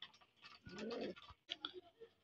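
Pigeons, including cream-eyed Madira and the famous red-necked Khulna breed, coo in a close, soft rolling burst followed by a few shorter, quieter coos.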